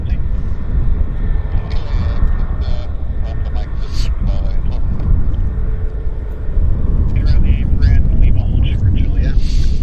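A corporate jet taxiing at Vancouver airport gives a steady low engine rumble and whine, with a noisy, wind-buffeted texture throughout and louder passages toward the end; a voice talks over it.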